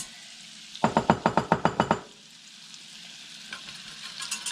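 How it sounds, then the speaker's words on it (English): A whisk scrapes rhythmically in a pan as flour is worked into melted butter for a vegan cream soup, about eight quick sharp strokes close by, then quieter sizzling and soft clinks. "I'll start to whisk in the flour into the butter"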